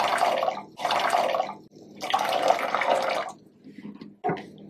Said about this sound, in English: to a gallon of water, I like to pour about a quarter cup of vinegar. And I'm just going to pour this in.